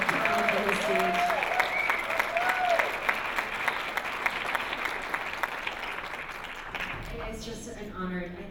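Audience applause at a premiere Q&A panel, a steady wash of clapping from a seated crowd that fills most of the stretch, with a voice speaking over it before it fades near the end.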